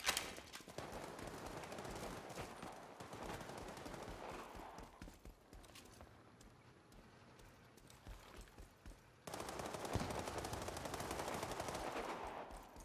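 Rapid bursts of video game gunfire crackle throughout, with dense automatic volleys that fade slightly midway and then return louder, heard faintly at a distance.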